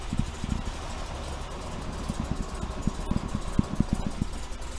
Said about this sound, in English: That was me pushing in the clutch. It almost killed the engine.